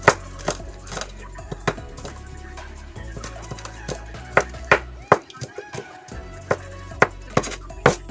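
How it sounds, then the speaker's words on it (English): A knife chops fresh garlic finely on a cutting board, giving sharp, irregular thuds that come quickly at first, pause briefly, then resume steadily, with faint background noise. "let's cut this up first. This garlic."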